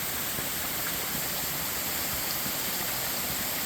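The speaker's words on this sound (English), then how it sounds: "we'll see a concrete spillway and another waterfall." A waterfall pours over a concrete spillway into a mountain stream near Aqueduct Falls, giving a steady, dense, loud rushing roar that holds unchanged throughout with no voices.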